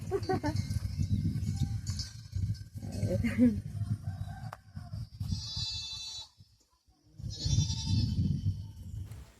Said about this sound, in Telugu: అది మన మేకలు చూడండి ఒకసారి